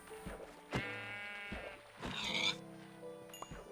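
Minecraft Earth sheep give several bleats in a row, wavering nasal calls that overlap slightly and sound close and fairly loud against a light game background.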